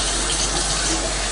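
Water runs steadily from a tap as a continuous, even rushing hiss with no pauses, close and moderately loud, with no voices over it.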